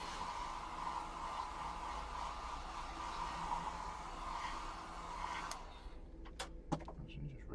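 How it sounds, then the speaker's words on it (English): A steady, loud hair dryer whirs continuously for several seconds, then cuts off, leaving a few faint clicks and knocks in a quiet room. "Hair dryer."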